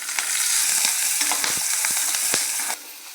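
Oil goes into a pan of roasting green chillies, onion and garlic for Kolhapuri thecha, setting off a steady, close sizzle with light stirring clatter that drops to a quieter fry at the end.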